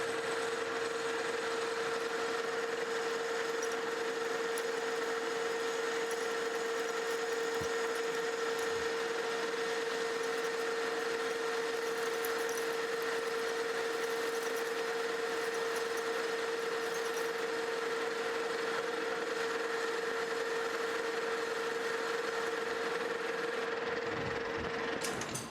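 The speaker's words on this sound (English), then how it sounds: "Chamfering tool." A horizontal boring mill runs steadily as a chamfering tool cuts a steel shaft, a constant machine hum with a sustained steady tone and no talking.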